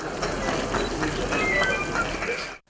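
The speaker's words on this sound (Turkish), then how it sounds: "Doğu Ekspresi yemekli ve yataklı vagonlardan oluşuyor" Eastern Express (Doğu Ekspresi) passenger train of dining and sleeping cars rolling along, a steady rumble with faint clicking wheel noise and light squeals, fading out abruptly at the end.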